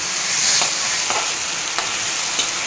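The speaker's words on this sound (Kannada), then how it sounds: "ಇಲ್ಲಿ ನೋಡಿ ಒಗ್ಗರಣೆ ಹಾಕ್ತಾ ಇದ್ದಾರೆ" Steady, loud sizzling of spices tempering in hot oil for a beans dish, with a few sharp crackles and pops breaking through the hiss.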